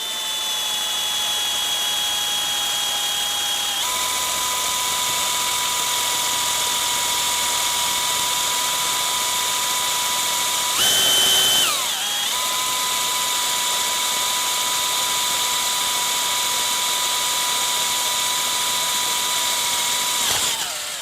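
A Champion carbide hole saw cutter bores through metal with a loud, steady high-pitched whine, holding constant pitch with a few brief shifts and one short harsher burst partway through, continuous and close.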